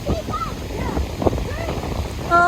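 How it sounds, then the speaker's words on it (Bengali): Gusty, storm-like wind sweeps past a lake and batters the microphone with low rumbling bursts, while faint tonal voice or song fragments drift over it and grow clearer at the end. "জাস্ট বলা যায় কালবৈশাখী ঝড়ের যেরকম বাতাস হয় না,"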